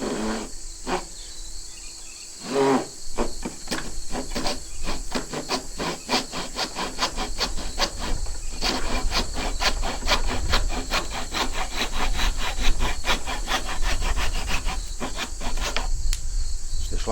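A take-down bucksaw cuts through wood in a steady rasping rhythm of close, loud back-and-forth strokes that start haltingly and then run continuously.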